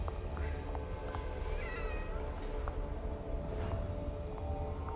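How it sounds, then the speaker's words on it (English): In the horror game The Evil Within, a cat meows at a save point: a few soft, brief meows over a constant low hum of game ambience, with scattered faint clicks. "Come on, kitty."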